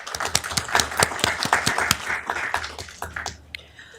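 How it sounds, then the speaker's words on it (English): A city council meeting audience claps steadily in a dense patter that tapers off toward the end, with no voices over it. "Let's give him a round of applause."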